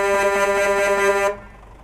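A loud, steady Scania truck horn in Euro Truck Simulator 2 blares for over a second with a rich harmonic tone, then cuts off abruptly, leaving a quiet hum.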